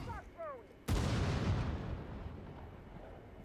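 A frag grenade goes off in the Rainbow Six Mobile video game, one sudden loud blast that rolls into a long decaying rumble, after a few brief chirpy game sounds.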